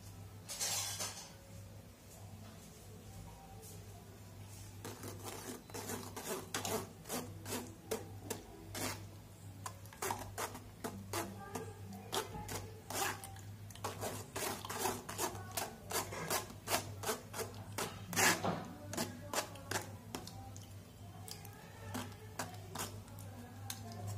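A spoon rubs and rasps steadily against a strainer while stirring beetroot pulp for juice, a quick repeating scratchy rhythm running close and fairly quiet over a low constant hum.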